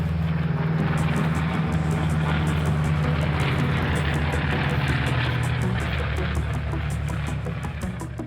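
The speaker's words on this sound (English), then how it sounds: "The plane is in the air and we have returned to beautiful Miramar." An airplane flies over Miramar in the PUBG Mobile video game, a steady loud droning engine hum with a low propeller tone that holds throughout without speech.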